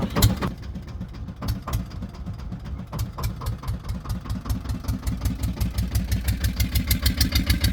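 A diesel motor boat engine on the Sharavati River backwaters at Honnavar runs with a steady throbbing chug that gradually speeds up and grows louder, with no talking.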